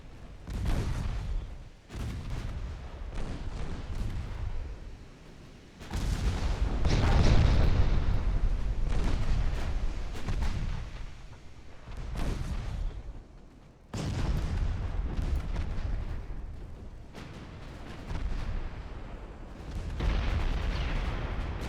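Naval 10-inch guns fire in the Ultimate Admiral Dreadnoughts game: heavy booms repeat every few seconds, each rolling into a long thundering rumble, loud and close with overlapping blasts.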